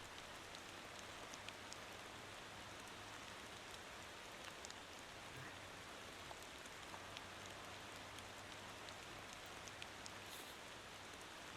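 Rain in a Korean bus driving video game patters as a steady, faint hiss of drops on surfaces, continuous and even with a low hum beneath and no talking.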